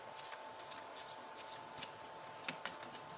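Tarot cards being shuffled by hand in quick, soft riffling bursts, close and fairly quiet, with a faint steady hum behind.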